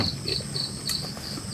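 Crickets chirp in a steady, close, continuous trill at night in a Sundanese rural setting, with faint background rustle and no talk.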